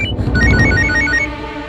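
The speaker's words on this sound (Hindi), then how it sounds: "फोन" An electronic phone ringtone chirps in a quick repeating pattern, moderately loud over a dense, busy background.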